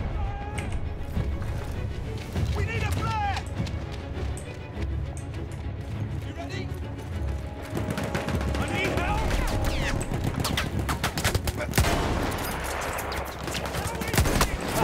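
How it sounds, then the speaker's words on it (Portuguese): Rapid bursts of gunfire in the video game Battlefield 1 crackle and pop continuously, with occasional louder shots and impacts over a busy background while a voice talks at times. "De onde tá vindo esse outro tiro?"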